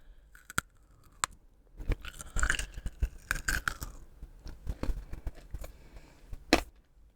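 Close, crisp chewing and crunching of food as an ASMR break, with irregular sharp crunches and bites over several seconds and no talking.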